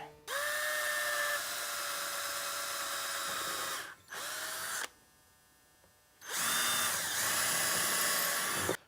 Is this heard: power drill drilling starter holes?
yes